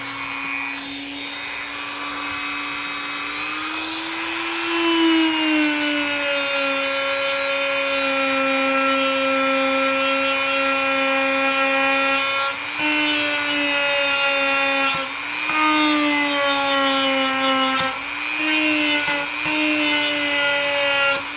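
Sandpaper rubs steadily along the side of a rusty knife blade during refurbishing, giving a loud, continuous abrasive rasp with a humming squeal, broken by brief pauses between strokes.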